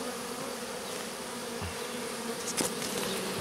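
Honeybee swarm clustered on the ground beside a wall in spring, with an old black queen: a steady, close, continuous buzzing drone with faint fly-by whines and no talk.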